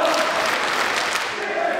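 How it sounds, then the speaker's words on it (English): A wrestling crowd in Pittsburgh roars in a loud, steady, unbroken wash of cheering and clapping from start to finish. "The crowd is chanting."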